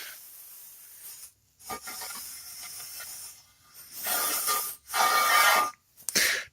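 A sander polishes cast iron with a steady hissing, rasping grind that cuts out several times, swelling louder and brighter in the later passes, with short near-silent breaks between the runs.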